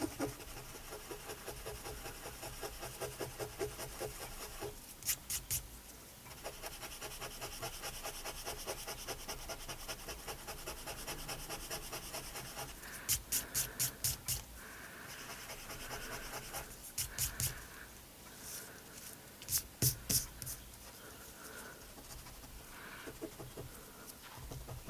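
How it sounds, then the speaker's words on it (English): Sand eraser rubbing ink off card, a steady faint scratchy scrubbing at close range with short bursts of harder rubbing, no voices. "I'll see if I can get that ink off with the sand eraser"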